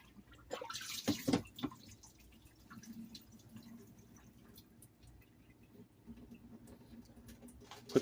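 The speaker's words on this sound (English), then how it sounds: "And I'm just going to drain my water." Water draining off a flat resin-casting surface during interior spot casting, a faint trickle with scattered drips and a brief louder splash early on, quiet and close.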